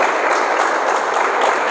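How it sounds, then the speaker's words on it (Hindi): A loud, dense burst of audience applause at a public awareness talk on drug addiction, many hands clapping together in a steady unbroken wash from start to finish. "ताली तो ऐसी बजाओ"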